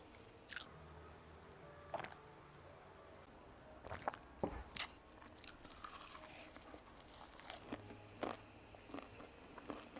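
Close-up crunchy bites and wet chewing of a ssam lettuce wrap with meat, several sharp crisp crunches spaced irregularly over quiet mouth sounds, with no talking.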